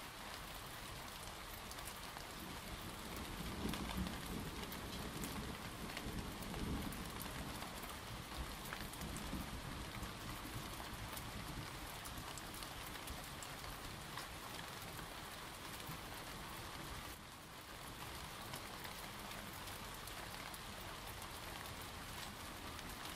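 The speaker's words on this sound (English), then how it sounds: "Noticing the repetitive sound of the rain," Steady, dense rainfall pours down on surfaces, a constant broadband hiss with no clear thunder rumble, unbroken and even throughout.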